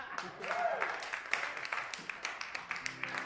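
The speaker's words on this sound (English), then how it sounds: "You clap now." Scattered audience clapping at a live music stream, a thin, uneven patter of hands at moderate distance, with a voice and some sustained tones mixed in.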